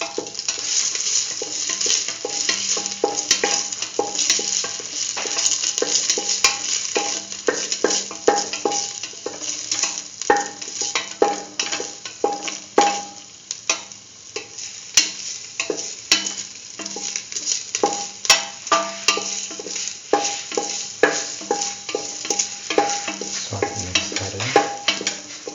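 Potato and soya chunk rice being stirred and fried in a pot for a Hausa dinner recipe, with a steady sizzle under repeated scraping and clinking of a spoon against the pan, close and continuous throughout.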